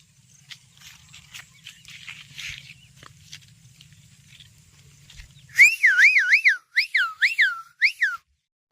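A loud, warbling whistle calling sheep repeats in quick bursts, several trills in a row, after a stretch of faint rustling and background hum.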